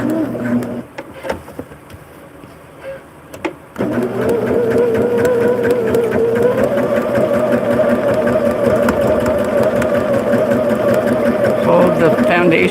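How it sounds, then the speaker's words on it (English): A sewing machine runs a quick line of stitching through a seam allowance on a quilting foundation, starting with short bursts, then settling into a steady, close whirring hum that continues for several seconds. "I'm going to just do a quick line of stitching in the seam allowance."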